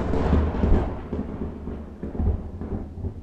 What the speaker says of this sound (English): That was loud thunder